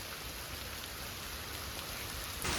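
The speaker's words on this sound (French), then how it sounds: "il pleut" Steady rain falling in Sukhothai, Thailand, a dense even hiss of drops on surfaces, continuous and fairly close, with no voices.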